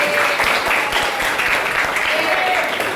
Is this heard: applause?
yes